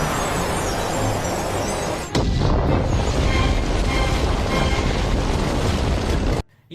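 Saga's Galaxian Explosion attack from Saint Seiya erupts as a loud, sustained roaring blast that swells after a brief lead-in, then cuts off abruptly near the end.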